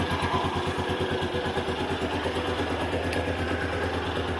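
A Hero Karizma R motorcycle engine idles steadily and close by, fresh engine oil in it, with an even, regular low throb running throughout and no talking.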